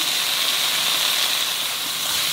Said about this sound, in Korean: 수분이 어느 정도 날아갈 때까지만 볶아주시고요